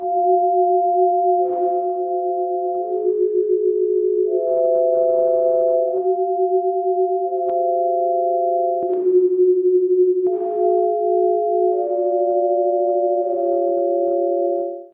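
Steady electronic tones forming sound portraits of faces from their colours, two or three held pitches at a time, shifting in blocks every second or two, loud and continuous with no voices.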